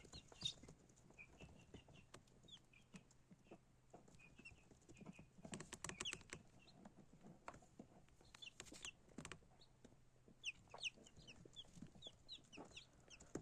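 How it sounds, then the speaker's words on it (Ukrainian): Many incubator-hatched chicks cheep under a heat lamp in high, thin peeps, scattered and overlapping, with soft rustling and scratching of little feet beneath them. "Ось такі курчатка з інкубатора."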